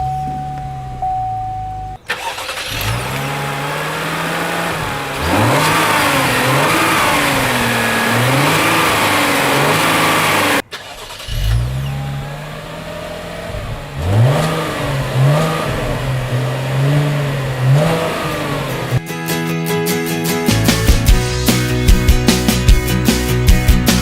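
A 2016 Cadillac CT6 engine cranks and starts, then revs up and down several times in rising and falling sweeps, followed by a steady idle and mechanical whirring.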